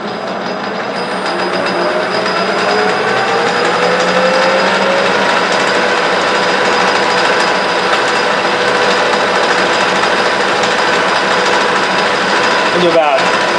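A metal lathe takes a heavier cut, about thirty thousandths, in stainless steel. It gives a continuous, even mechanical whir and grind at a steady, fairly loud level throughout.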